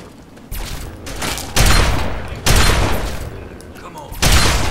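Enemy sniper rifle gunfire in Fallout 3, cracking in several loud, sharp shots spaced about a second apart, each with a broadband burst and trailing echo over steady ambient game noise.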